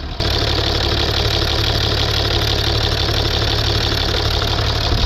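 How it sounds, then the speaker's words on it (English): A Range Rover 3.0 diesel engine idles close and loud with a steady knocking rumble, and a continuous high belt squeal rides on top of it throughout. "we've got a belt squeal started"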